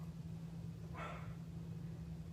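A dog barks at the mailman, one short bark burst at a moderate distance over a steady low hum.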